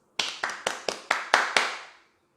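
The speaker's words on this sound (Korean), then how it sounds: "박수." Seven sharp hand claps, evenly spaced and fairly close, from a small group opening the first broadcast of a new analog TV channel; each clap rings briefly before the next, with no talk over them.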